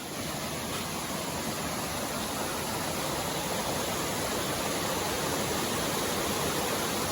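Steady, full-band rush of the Hardcore Cascades waterfall on the Appalachian Trail, a continuous close roar of falling water with no pauses or voices, constant in loudness throughout.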